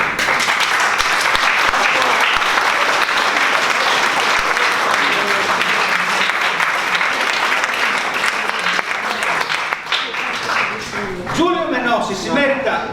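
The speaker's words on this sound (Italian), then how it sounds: "si merita un altro applauso" Audience applause at an award ceremony, a loud, sustained wash of many hands clapping that thins toward the end as a voice starts speaking.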